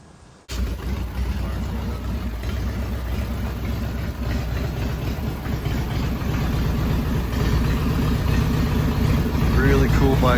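An Arlen Ness custom Harley-Davidson with an S&S Super E carburetor fires up after a brief quiet moment, then settles into a loud, steady, throbbing idle close by that continues to the end.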